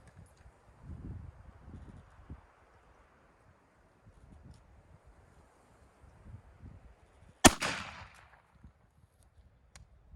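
A single loud, sharp shotgun blast from a 28 gauge SBE 3 firing a Boss 3-inch copper-plated bismuth turkey load of number 4 shot, ringing out briefly outdoors over quiet rustling and light breeze.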